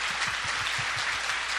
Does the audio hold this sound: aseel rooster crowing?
no